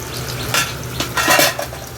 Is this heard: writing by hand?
no